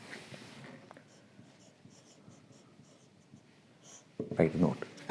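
Pen or marker scratching out a note during an engineering lecture on beam support reactions, faint steady strokes under the lecturer's speech, with a louder burst of sound near the end.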